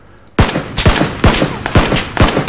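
Gunfire in the video game PUBG: a sharp burst of about six loud, closely spaced shots cracks out in quick succession after a brief quiet moment.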